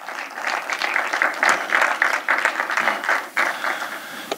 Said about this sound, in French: Est-ce qu'on peut applaudir ces gens-là?